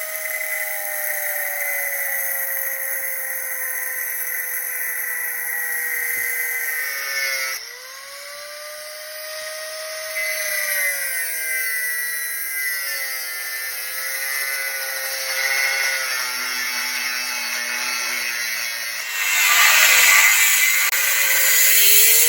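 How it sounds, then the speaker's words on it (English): An angle grinder cuts metal for a ship's cannon trunnion cap, a loud sustained high whine that shifts pitch as the disc bites and eases, with harsh hissing bursts, heard up close for over twenty seconds. "We'll take our angle grinder and we will cut it off the inside"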